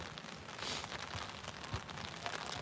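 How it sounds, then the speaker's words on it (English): Steady rain pours down over an outdoor Meadowbrook Christian School sports match, a dense continuous hiss of drops on surfaces with a few louder splashes, no voices. "the rain continues to pour"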